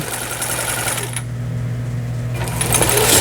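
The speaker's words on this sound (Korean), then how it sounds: "이 기계는 지금 보시는 것처럼 안정감이 있죠. 그리고 소음이 적죠. 그리고 박음질이 굉장히 부드럽게 되는 것을 보실 수가 있습니다." A Brother sewing machine stitching in reverse makes a steady, close motor hum with a rapid needle rhythm. The sound is loud and continuous and eases briefly partway through, with no voices.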